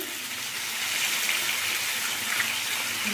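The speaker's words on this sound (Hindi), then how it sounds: "अब हम इसमें डालेंगे मछली को फ्राई होने के लिए।" Katla fish pieces sizzling as they go into hot mustard oil, a steady, even hiss and crackle of frying that holds for the whole stretch, close by with no talking.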